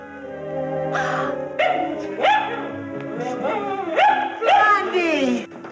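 A dog in a 1945 Blondie comedy scene gives a run of sharp, rising yaps and barks in quick bursts, close and fairly loud, with what may be voices mixed in.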